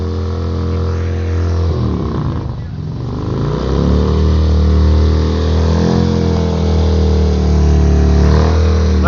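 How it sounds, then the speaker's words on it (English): A Harley-Davidson motorcycle doing a burnout at an outdoor bike night, its loud engine revving and then holding a steady, heavy roar close by. "We got a burnout going."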